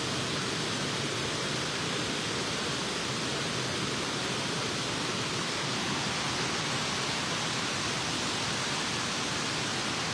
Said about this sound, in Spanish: Este río que justamente pasa por medio fraccionamiento